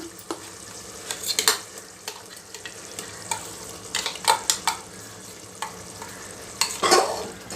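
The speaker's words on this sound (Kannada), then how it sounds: "ಇದು ಚೆನ್ನಾಗಿ ಎಣ್ಣೆಯಲ್ಲಿ ಸ್ವಲ್ಪ ಫ್ರೈ ಆಗಬೇಕು" Mint paste fries in oil with tomato for mint pulao, a low sizzle broken by repeated scraping and stirring strokes of a spoon against the pan, close and uneven in rhythm.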